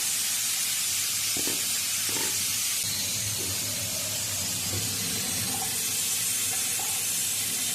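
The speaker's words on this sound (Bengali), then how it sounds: "তেল গরম তো হয়ে গেছে, পটলটা তুলে দিলাম।" Loud, steady hiss of food frying in hot oil, a broad crackling sizzle with a few soft clinks and knocks, no talking.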